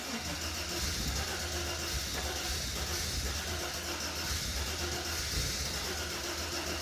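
A Mercedes SL320 engine that had not run for three years idles roughly and misfires, a steady loud rumble with uneven stumbles throughout and no talking.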